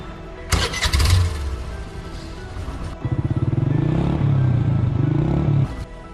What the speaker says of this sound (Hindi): यही सोचकर वो बाइक स्टार्ट करके